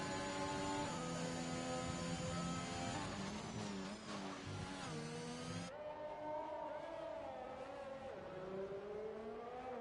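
Race car engines from the F1 2021 video game on a qualifying flying lap at the Singapore street circuit, revving hard with shifting whines and gear changes, loud and continuous, a faint voice speaking underneath.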